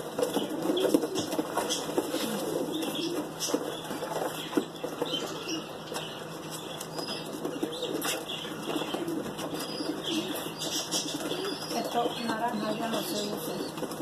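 Pigeons in a loft, a dense flock with soft cooing and fluttering wings continuing throughout at a steady, fairly close level, with a voice briefly heard among them.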